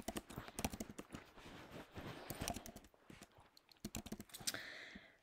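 Quick bursts of computer keyboard typing as words are entered into a list, with irregular clusters of close, crisp key clicks and brief pauses between them, no voice.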